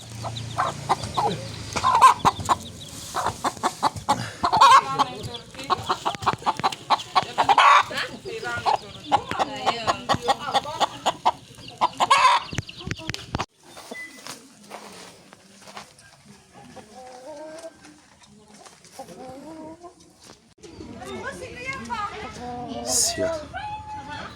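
Brahma x Brazilian Indian game hen with her chicks, clucking in short repeated bursts close by, mixed with someone talking and other fowl calls, then softer peeping and scattered clucks.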